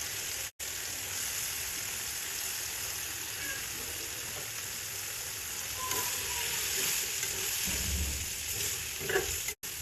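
Chicken skin frying in a hot, oily spice paste gives a steady, close sizzle across the whole stretch, with a few soft stirring knocks near the end and no talk.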